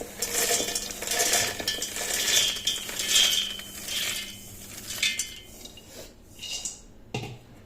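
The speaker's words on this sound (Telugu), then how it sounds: "ఇలా ఒక జార్ తీసుకొని ఆ జార్లో మనకు చెనిగింజలు ఇలా వేసుకోవాలి" Peanuts rattle and clatter into a metal grinder jar, a run of bright, scattered clinks and tumbling taps that build and then thin out, ending with a sharp knock near the end.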